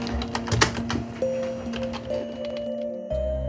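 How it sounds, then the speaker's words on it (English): Someone typing slowly on a computer keyboard with a single finger, irregular clicky taps close up over a steady electrical hum, no talking. "she is absorbed in operating a keyboard with her only controllable finger."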